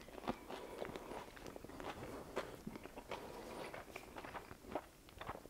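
Close, crisp crunching bites into a reheated slice of pizza, a run of short sharp crackles repeating irregularly for several seconds with no talk over them.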